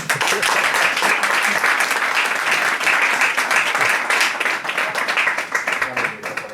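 Audience applause at a Spanish book presentation for the third expanded edition, a steady full round of clapping from a room of people lasting several seconds at even strength.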